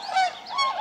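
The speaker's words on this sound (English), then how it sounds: "Swan." Swan giving a single short, nasal, trumpeting honk that rises and falls over under a second, close and clear with no other sounds.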